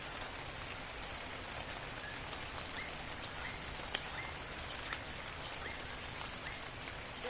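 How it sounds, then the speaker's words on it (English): Rain falls on an island in the Ark video game as a steady, soft patter with scattered faint drips and occasional light ticks. "Still raining on the island here."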